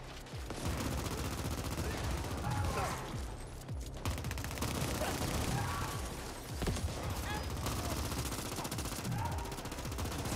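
Sustained, loud automatic gunfire and heavy weapon bursts fill the whole stretch in the co-op shooter The Ascent, with dense rapid fire, crashes and effects continuing without pause.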